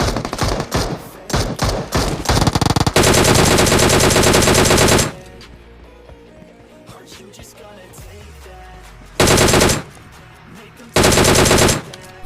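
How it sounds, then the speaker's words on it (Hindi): Automatic gunfire from the BGMI battle royale game, with dense rapid bursts over the opening seconds, then quieter ambience broken by two more loud sustained volleys later on. "मेरे को आगे की तरफ से मतलब गोलियां चलने की आवाज आती है"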